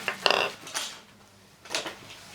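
A small cosmetics spatula taps a vintage jewellery pearl a few times, giving light, quick clicks in two short clusters, close and quiet, with no talking.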